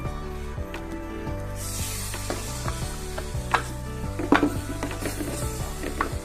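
Squeezed tamarind juice is stirred into a tuna curry in a pan, with scattered spoon scrapes and clinks over a low, constant background hum.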